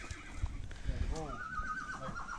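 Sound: horse neighing while mating with a mare

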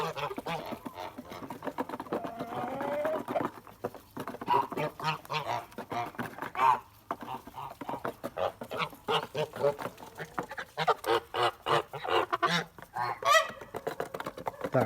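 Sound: Kholmogory geese honking by a stream

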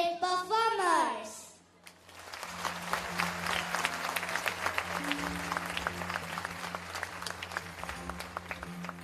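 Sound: audience cheering for child dancers

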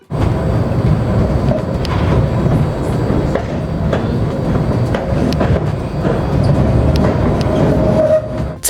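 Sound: renovated tram running on the line in Kryvyi Rih

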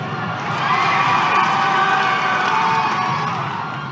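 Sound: crowd roaring in approval, audiobook effect

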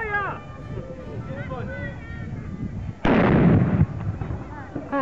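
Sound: cannon firing at historical battle reenactment

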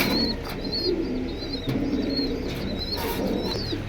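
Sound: pigeons at a pigeon market

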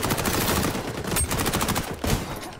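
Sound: shotgun fire in the video game XDefiant

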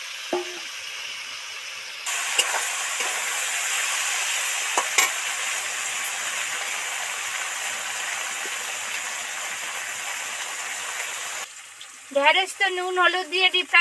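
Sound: deep frying okra with salt and turmeric

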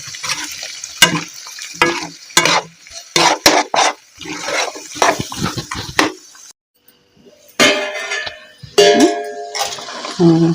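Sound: mutton pieces frying and being stirred in a pan

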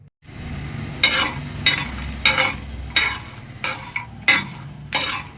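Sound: roasted chicken curry frying in a pot

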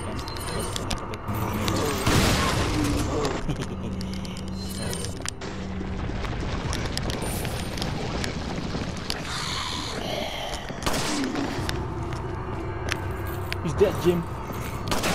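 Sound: shotgun firing in a video game

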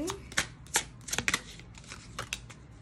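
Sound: tarot cards being shuffled for a reading

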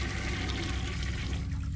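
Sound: toilet flushing in horror video game City of Nightmares

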